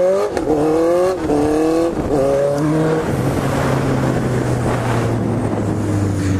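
A Honda CB 650F motorcycle revs hard during a wheelie on a street, its engine note climbing and dropping in quick shifts before settling into a steady high drone, with wind rushing over the microphone.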